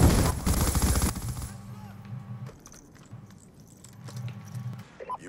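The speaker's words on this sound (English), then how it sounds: "What is this gun? It's an LMG." Burst of LMG machine gun fire in the video game Black Ops 2, a loud rapid rattle for about a second followed by quieter game sounds and hum.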